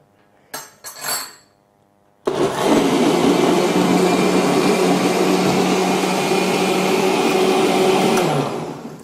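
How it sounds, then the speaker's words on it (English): A kitchen blender pulsing kiwi fruit, starting with a couple of brief clinks and a short whir, then a loud continuous grinding whirr that holds steady for several seconds before winding down. "I'm not going to blend the kiwi so much, just a little."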